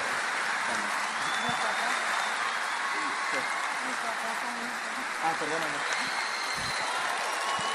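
A comedy show audience applauds, a dense, continuous wash of clapping that fills the room evenly and stays steady without a break.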